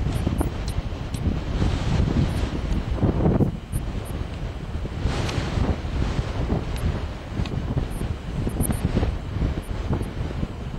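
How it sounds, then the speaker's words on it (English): Strong wind buffets the microphone outdoors on an Alaskan boat trip, a continuous rough roar with gusting swells and faint distant water beneath, no talking. "Windy out."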